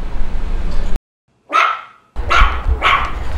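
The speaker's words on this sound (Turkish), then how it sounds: "Burada köpek var" A dog barks several times in sharp bursts with short silent gaps between, close and fairly loud, with no talking.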